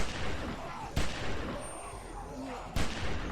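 Gunshots in The Walking Dead video game, two sharp reports about two seconds apart over a busy, noisy game soundscape, fairly close but not very loud, with no clear voices.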